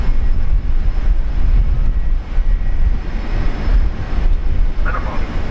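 An airplane landing on the runway at Brisbane Airport in heavy rain gives a loud, continuous low rumble and roar that hardly changes throughout, with a faint voice near the end.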